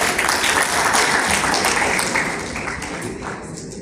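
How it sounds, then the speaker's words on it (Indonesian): Audience applause at a church devotional gathering honouring an elderly man, dense clapping that stays loud and full for a few seconds, then thins and fades toward the end. "Saya kira perlu tepuk tangan untuk Pak Budi."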